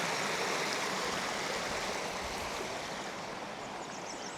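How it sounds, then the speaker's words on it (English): Shallow water of the Niobrara River flowing: a steady, fairly quiet wash of rushing water that holds constant for several seconds with no voices. "You can walk right down onto the river."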